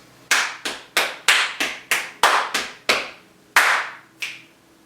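Ten sharp body-percussion hits ring out alone in a patterned rhythm of quick claps with small pauses, a longer gap before a louder clap, then a final lighter snap, each close and crisp with a short decay.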